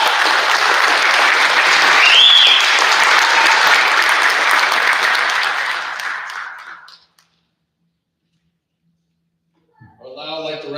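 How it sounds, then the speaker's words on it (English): A full round of applause sweeps through the audience at a corrections officers academy graduation, loud and dense for about six seconds with a faint whistle, then fading to silence before a voice resumes speaking. "Let's give them a round of applause"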